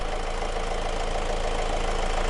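A 2012 Honda CR-V engine idles during a DPF cleaning job, running with a steady, even mechanical hum and fine rapid pulsing, close and constant with no voices.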